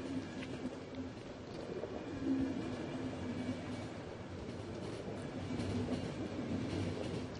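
Steady rumble and rhythmic clatter of a train ride in the video game The Final Station, a continuous rolling rail sound with faint clicks, moderate and unbroken throughout.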